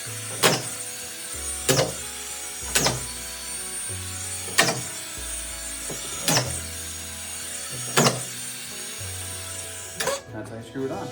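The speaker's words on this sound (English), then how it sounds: "That's how I screw it on." Drywall is driven onto a wall with a power screwdriver, in short whirring bursts roughly every second, each closing with a sharp knock, up close with faint background noise.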